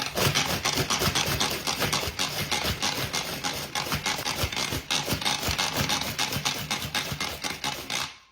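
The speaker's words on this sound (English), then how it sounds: "pop them in the manual food processor. I'm going to put the lid on, and then you just simply press" A hand-pressed manual food processor chops ingredients for a lemon dessert, a dense, busy clatter of fast rhythmic scraping and rattling with sharp ticks, steady and close until it stops at the end.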